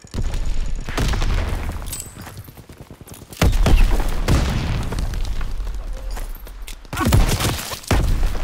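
LMG fire in Call of Duty: WWII, loud sustained rattling bursts of rapid shots with booming impacts, broken by a brief quieter lull before the fire resumes, under a chaotic in-game mix.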